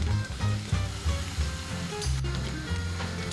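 Flour and dried onions roasting in a hot pan, a steady close sizzle and crackle with faint scraping stirs, heard alone without any talk.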